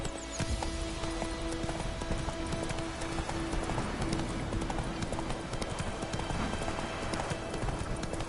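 Horse hooves clip-clop in a video game, a steady, fairly close trotting rhythm that runs the whole time over a faint tonal game backdrop.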